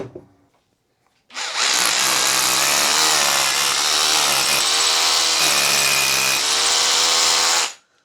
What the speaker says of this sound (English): As soon as you hear the drill struggling a little bit, just back out and let the dust clear out of the hole.